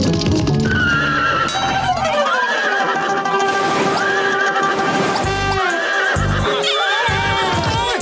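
A cartoon horse neighs and whinnies repeatedly over busy clip-clopping hooves, loud and close, layered with lively background music and sound effects throughout.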